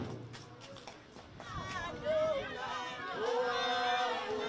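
A small mob approaches a closed shop with a murmur of crowd voices, shouts and chanting, and scattered footsteps under continuous chatter that grows slightly louder.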